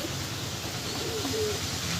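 Madrasi pigeons cooing among a large flock of old birds in a loft, a few soft low coos rising over steady background noise, with no talking.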